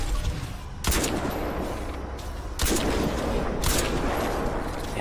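Three heavy sniper rifle shots from Crysis 2 crack out at uneven intervals, each loud and sharp with a ringing tail, over a steady background of low battlefield noise.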